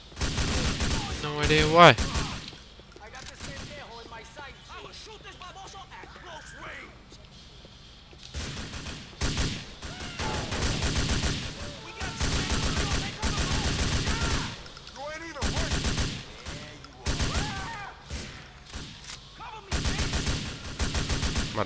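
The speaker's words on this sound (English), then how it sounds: "These guys are like glitching out when they shoot." Rapid bursts of gunfire from a gang drug war in GTA 4 The Ballad of Gay Tony, loud volleys repeating over roughly twenty seconds, with someone talking briefly between shots.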